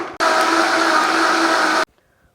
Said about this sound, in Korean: 같이 다 갈아줄게요.